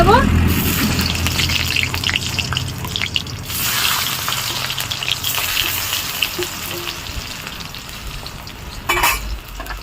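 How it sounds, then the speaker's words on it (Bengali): Boiled taro fries in oil in a wok, producing a loud, steady sizzle with bursts of crackling and occasional stirring scrapes. "কড়াইতে তেল দিয়ে দিয়েছি আর আমি এবার সেদ্ধ কচুটা একটু ভেজে"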